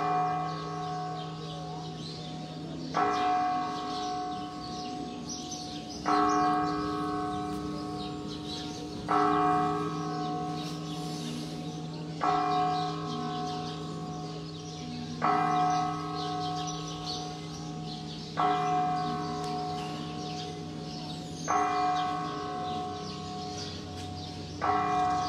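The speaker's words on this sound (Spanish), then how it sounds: "qué chulada las campanadas del templo" Deep church bells toll one stroke at a time, evenly spaced every few seconds, each ringing out and lingering beneath the next, with no talking.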